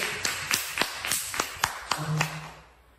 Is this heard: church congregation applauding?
yes